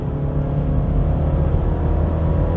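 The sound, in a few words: BMW 330e hybrid car driving uphill on Genting mountain road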